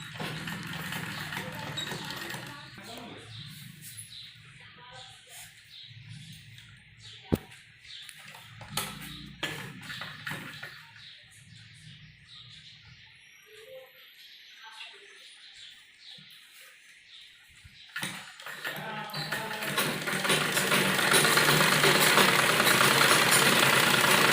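A sewing machine stitches the lining of an embroidered kurti suit, its motor whirring with rapid ticking in stop-start runs. A quieter stretch in the middle gives way to a loud, sustained run at the end.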